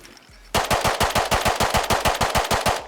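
Rapid semi-automatic pistol fire in the survival game Rust, about sixteen sharp shots in a fast, even rhythm that start abruptly after a quiet moment and ring out loud and close with no talk.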